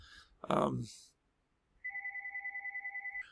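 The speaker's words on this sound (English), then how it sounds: "I forgot to turn the phone off" Phone ringing with a steady electronic pulsing ringtone of about a dozen rapid beeps, following a short spoken word.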